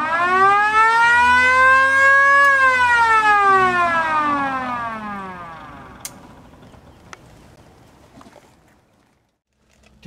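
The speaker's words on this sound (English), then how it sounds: "Inside the car, I've turned the light on and also the siren." A police squad car's siren with its light switched on rises and falls in a clear wail, then trails off and fades to near silence, with a few sharp clicks toward the end.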